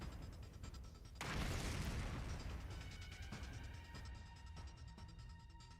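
A bomb goes off in the video game The Hundred Line, a single loud broadband blast that rumbles and decays over several seconds amid game sound, with no talking.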